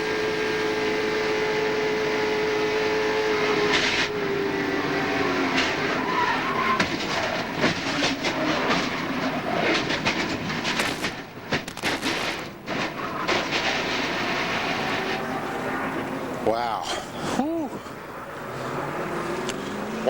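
Onboard sound from Dale Jarrett's NASCAR Cup car at the 1999 Daytona 500, heading for turn 3 under caution. A loud, continuous engine drone with shifting pitch runs throughout, with clattering bumps near the end.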